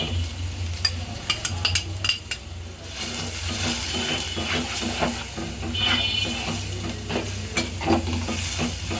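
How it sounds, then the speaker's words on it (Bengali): Spice paste of ground ginger, garlic and cumin with salt, coriander, turmeric and chili powder sizzles steadily in a pan on a gas stove while a utensil stirs it with repeated scraping clicks, close and without talk. "এই মশলাটা এখন আমি ভালো করে কষিয়ে নিব।"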